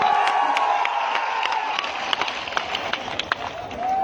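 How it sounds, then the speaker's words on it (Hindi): A crowd at a UP election rally claps and cheers to welcome Dr. Mannan, a dense, loud wash of clapping and shouts with scattered sharper claps throughout. "जोरदार ताली बजा के इनका स्वागत करा।"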